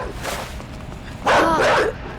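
A dog in the video game INSIDE barks and yips loudly and close, with a fainter bark first and then a strong burst lasting under a second.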